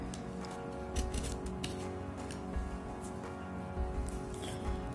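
Scissors snipping and crinkling through tough cosmetics product packaging, a run of close, irregular cuts and rustles with no talking.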